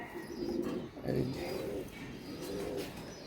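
Pigeons cooing softly, racing and local birds offered for sale, including a female with a farm tag on its leg, a few low coos rising and falling under a steady murmur of nearby voices.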